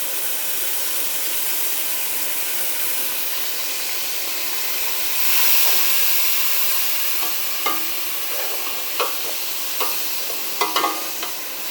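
Garlic and ginger frying in hot oil with browned onions for aloo tahiri, a broad steady sizzling hiss throughout, with a few sharp spoon scrapes and taps near the end.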